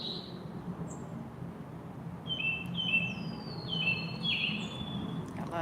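Faint high chirps and short whistled bird calls repeat over a soft outdoor hum, distant and sparse.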